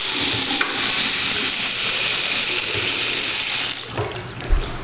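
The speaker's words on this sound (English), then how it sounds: "Here's another sink." Water running from a bathroom sink tap in a house, a steady close hiss of flow that shifts slightly near the end as the stream is disturbed.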